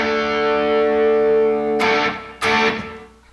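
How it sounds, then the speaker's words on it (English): An electric guitar runs through a Blues Driver overdrive, with the mids boosted by EQ, into a Deluxe Reverb Tone Master amp. A loud sustained chord rings out, then two sharp new strums hit before the sound fades away. "I'm getting my overdrive from my blues driver. I'm using my EQ to boost the mids a little bit, and I'm running into my deluxe reverb tone master."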